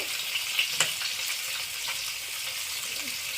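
Mustard oil sizzles in a hot wok, a bright continuous frying hiss with a few small pops and crackles near the start, close and steady with no talking.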